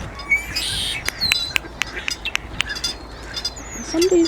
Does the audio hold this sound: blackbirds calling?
yes